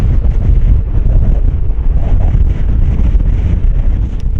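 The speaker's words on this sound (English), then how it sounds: "you know it's windy when the waterfalls are running in the opposite direction" Strong, steady wind roaring and buffeting the microphone on coastal cliffs in Iceland, a dense low rumble with no voices.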